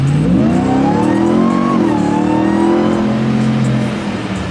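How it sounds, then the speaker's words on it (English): A 2022 Ram TRX pickup engine with a RIPATUNED 5-inch intake pulls hard at full throttle, its pitch climbing steadily and then easing off, loud and close with no talking. "gonna give you a little full throttle pull"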